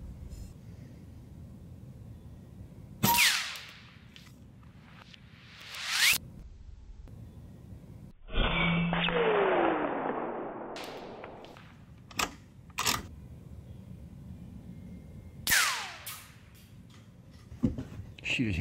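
Shots from an Airgun Technology Uragan 2 .25 caliber PCP airgun with a 700mm barrel, fired at targets: several sharp, loud cracks spaced irregularly, each with a brief tail, over a quiet outdoor background.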